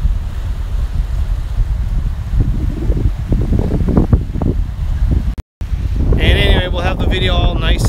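Breezy wind on the exposed ocean floor at low tide at Burntcoat Head: a steady, loud, low rumble of gusts buffeting the microphone, with a voice briefly heard near the end.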